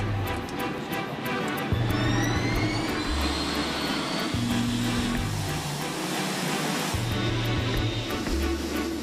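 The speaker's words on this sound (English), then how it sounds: "The 747-8 Intercontinental, the newest and largest version of the company's iconic jumbo jet, is taking off for the first time." Boeing 747-8 Intercontinental jumbo jet on its first takeoff, a loud, steady, broad engine roar that holds for the whole stretch with low tones sounding beneath it.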